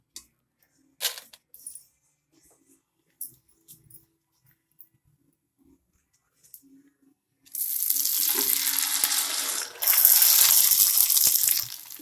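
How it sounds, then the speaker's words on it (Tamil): Sun-dried kanji vathal rice crisps go into moderately hot oil. A few faint clinks come first, then a loud, dense sizzle and bubbling rise and keep going strongly to the end. "அது வந்து இப்போது எண்ணெயில் போட்டு பொரித்து எடுத்துக்கலாம்"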